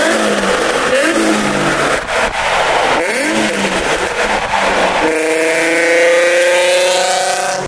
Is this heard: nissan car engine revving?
yes